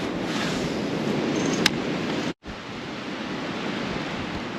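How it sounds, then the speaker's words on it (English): Strong wind roars steadily during a snow storm at an off-grid RV site, a broad rushing noise that cuts out abruptly for a moment before resuming. "Ew, this wind though."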